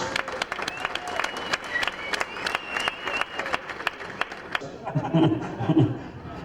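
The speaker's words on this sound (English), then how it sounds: "A round of applause please for Kevin Schwantz." Crowd applause for racer Kevin Schwantz at a 2007 TT event, a dense burst of clapping lasting several seconds before fading, with chatter and a voice emerging under the tail end.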